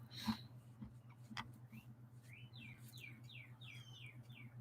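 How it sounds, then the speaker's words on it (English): Birds chirp outdoors, a quick run of short descending tweets repeating in a steady rhythm, fairly distant over a low constant hum. "You guys hear the birds out there?"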